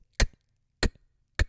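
A beatboxer mimics a rim tap or cross stick with the mouth: three crisp, woody clicks spaced apart, close up and dry with no other sound.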